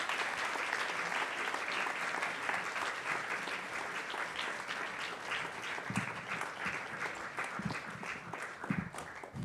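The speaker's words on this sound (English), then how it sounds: "One more round of applause for Cass and Stephen and Amy and Kaylee and Charlie and Allie" Audience applause at a university summer writing program faculty reading, a steady wash of many hands clapping throughout, fairly close and sustained with no voices over it.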